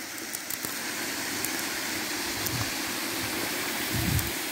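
A small outdoor stream runs with a steady, close rushing hiss of flowing water, broken by a few faint low rumbles.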